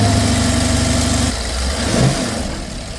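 A BMW twin-turbo V8 idles close up, a steady low throbbing rumble with a slight shift in tone partway through, loud and alone without voices.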